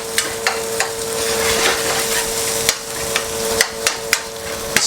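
Minced sausage browns in a pan with a loud, steady sizzle, broken by sharp knocks and scrapes of a utensil against the pan at irregular intervals.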